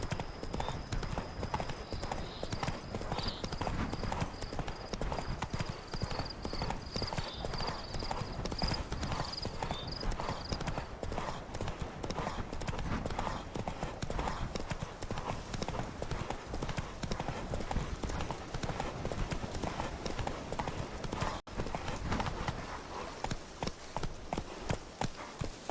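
Steady clip-clop of Geralt's horse Roach trotting in The Witcher, an even hoof rhythm running the whole time under game ambience, with a faint voice briefly present.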